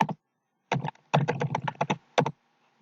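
Bursts of typing on a computer keyboard, close and crisp, with quick clusters of key clicks separated by short pauses and no talking.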